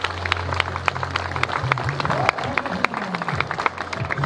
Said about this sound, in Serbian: Molim vas jedan aplauz za Kud Abrašević iz Smederevske Palanke.